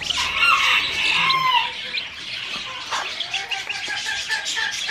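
Chicks from a farm flock peep in quick high chirps close by, alongside brooding hens giving occasional low clucks and squawks, in a busy coop.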